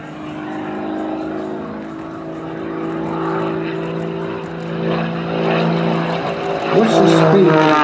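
A Pitts Special aerobatic biplane's propeller engine drones through flick and snap manoeuvres at a weston Park display, a steady tone that rises in pitch and loudness toward the end while someone talks over it.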